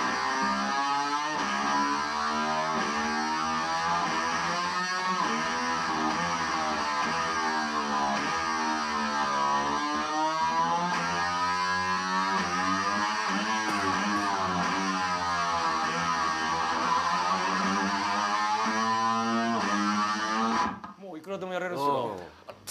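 Slide guitar played through an MXR octave fuzz pedal with the lower octave produces long gliding, wavering fuzzed tones that sustain and bend for about twenty seconds before stopping abruptly.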